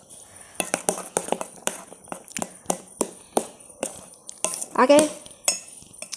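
A metal spoon clinks repeatedly against a bowl while different ice cream flavors are stirred together, giving a quick irregular run of close, bright taps with a brief spoken word partway through.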